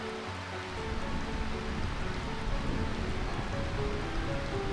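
Continuous rain ambience from the game Final Fantasy IX hisses as a steady, broad wash at moderate level, with faint low musical tones underneath.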